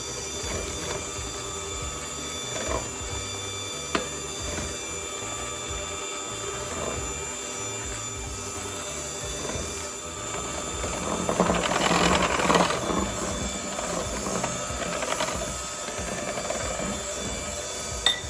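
A mixer beats the wet batter for a marble bundt cake as the baking powder mixture is added. A steady mechanical whir runs throughout and grows louder and rougher for a couple of seconds midway.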